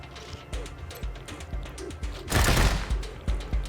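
Rapid bursts of gunfire crackle against a turret during a Wasteland 3 battle, dense repeated shots with a heavier loud volley in the middle, close and sharp.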